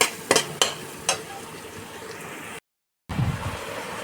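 Spiced masala fries in a pan for marinated chicken, with a few sharp utensil knocks over a low sizzle, a short silent gap, then more frying.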